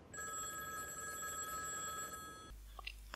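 A telephone rings with a bright, sustained electronic trill for about two and a half seconds, then cuts off into quiet with a few faint ticks.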